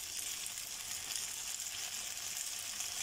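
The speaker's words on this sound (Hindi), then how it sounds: "हम इसमें सोया सॉस ऐड करेंगे" Macaroni frying in oil in a wok as soy sauce goes in, giving a steady, loud, close hiss and sizzle with faint stirring scrapes and no talk.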